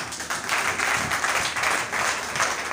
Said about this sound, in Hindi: तालियों से बता लो।